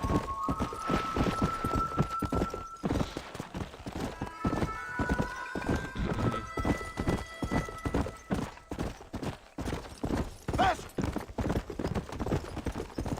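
Wild horse in Red Dead galloping with rapid, steady clip-clop hoofbeats throughout, broken by high whinnies and neighs, loud and close, with game music tones in places.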